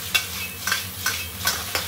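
Pre-boiled salted pork stir-fried in a pan, giving a steady sizzle broken by about five scraping stirs of a spatula at a regular pace, close and loud with no talking.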